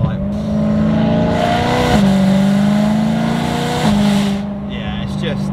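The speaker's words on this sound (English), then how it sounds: "The downshifts are just absolutely brutal." A newly bought car's engine holds a loud, steady drone that blips upward on downshifts, with two sharp pitch jumps as the gears drop, close and dominant before it eases off near the end.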